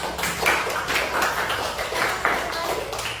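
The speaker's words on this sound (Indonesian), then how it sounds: "Tepuk tangan untuk kita semuanya" A classroom of pupils clapping along with their teacher, irregular bursts of hand claps over steady background noise, with voices mixed in.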